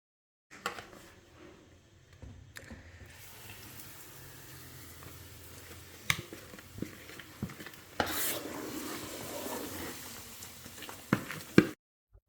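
Semolina stirred into melted sugar in a pan for halwa, a scraping, shuffling stir with soft sizzling and occasional clinks of the spoon against the pan, steady and close.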